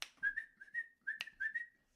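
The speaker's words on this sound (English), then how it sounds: "Oh, I can't whistle." A person whistles a short, breathy run of notes in several quick bursts, with slight pitch wobbles, heard close and fairly quiet against a silent background.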